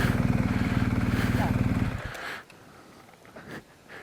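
A motorbike ridden close by, its engine a rapid, throbbing idle-like putter that cuts off abruptly partway through, leaving quieter background noise and faint voices.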